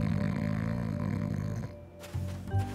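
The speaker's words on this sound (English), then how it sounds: "Whoa, he's really snoring." Loud, drawn-out cartoon snoring, a low rumbling breath that fades, then brief sharper snorts follow near the end.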